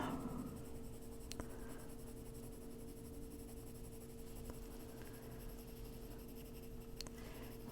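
Colored pencil shading lightly on paper in an adult coloring book, a soft continuous scratchy stroke texture with a few faint clicks, steady and close, with no talk.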